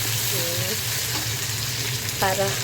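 Vegetables stir-fried in a pan with tomatoes added, giving a steady loud sizzle with spatula stirring and scraping. A few short voiced sounds come through over the frying.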